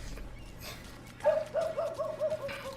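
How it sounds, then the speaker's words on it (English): A dog in the video game Alan Wake 2 gives a series of short, tonal yips and barks at a moderate distance, several in quick succession over a faint background. "I hear a dog. I hear a dog."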